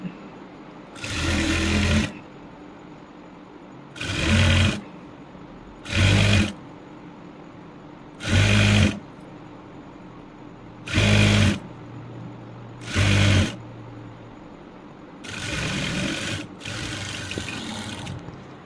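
A sewing machine stitches blouse piping with number 12 piping thread, running in seven short mechanical whirring bursts separated by pauses, with the last run longer and steadier, loud and close with no talk.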